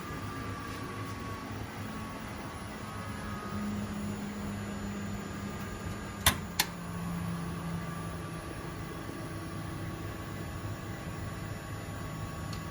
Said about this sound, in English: once it lights up. I'll put it into low fire.